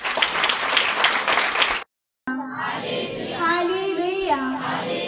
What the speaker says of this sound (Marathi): आपण जोरात टाळ्या प्रभू येशूला धन्यवाद देऊया